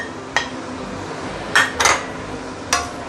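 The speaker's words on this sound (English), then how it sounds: "Give it a few stir and it is done." A utensil scrapes and knocks against a pan while basil chicken with chilies is stirred, four sharp metallic clinks over a quiet sizzling background.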